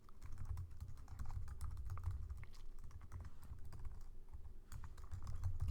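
Typing on a computer keyboard while writing a Java program: a continuous run of quick, close key clicks in an uneven rhythm, with brief pauses, over a low background hum.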